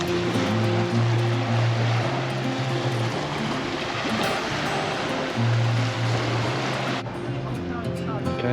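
Waves wash onto a beach as a continuous broad surf roar, with a low humming tone coming and going over it and a shift in the sound near the end.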